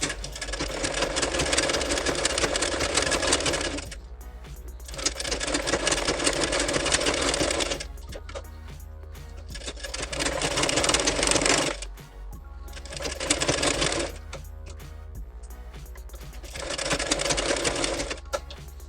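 Sewing machine stitching the lining onto a blouse back neck, running in four loud bursts of rapid, steady stitching separated by short pauses.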